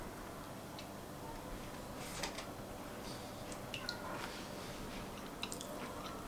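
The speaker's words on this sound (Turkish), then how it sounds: "Dönerimizi yiyoruz." Quiet close-up chewing of a homemade döner wrap with tahini, soft wet crunches and clicks scattered irregularly over a steady low room hiss, no talk.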